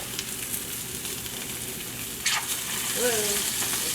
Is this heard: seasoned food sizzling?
yes